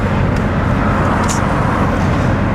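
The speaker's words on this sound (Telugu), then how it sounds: "వచ్చేసింది కారు" Car arriving on a road during a journey from Tashkent to Navoi, a loud, steady, close engine and road rumble with no pauses or talk over it.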